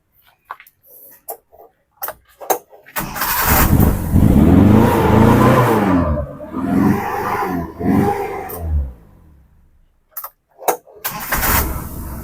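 A 1995 Suzuki Carry 1.0 engine cranks and starts, then runs with a rumbling roar that rises and dips before cutting off, with a few sharp clicks around it.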